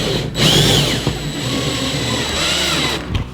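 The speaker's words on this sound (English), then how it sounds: "we're going to use our pocket screws to attach this to the side panels." A power drill drives pocket screws into the side panels of a NorthPoint diagonal wall cabinet, a loud close steady motor whir that rises and dips in pitch over about three seconds with no talk.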